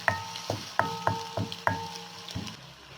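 Steady sizzling as garlic ginger paste fries with onions in a hot pan, with repeated utensil clinks and scraping taps, several sharp metallic hits over a constant frying hiss.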